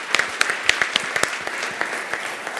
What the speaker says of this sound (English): give the applause to you as well